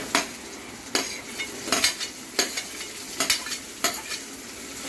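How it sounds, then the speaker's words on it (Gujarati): Tomatoes sautéing in a pan over softened onion and Kashmiri chili, a continuous frying hiss punctuated by regular sharp scrapes and clacks of a spoon stirring roughly every second. "તો હવે આપણે એમાં નાખીશું ટમેટા."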